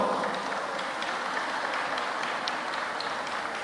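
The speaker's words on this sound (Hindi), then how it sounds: "एक बार इन सब बच्चों को ताली बजाकर धन्यवाद दो।" A crowd claps steadily to thank a group of children at a gathering, a continuous dense patter of applause at moderate distance with no speech over it.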